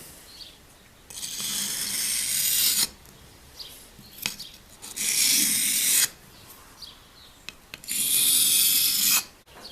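Knife blade stroked across a wet whetstone, three long close rasping scrapes of about two seconds each, separated by brief pauses with light handling noise.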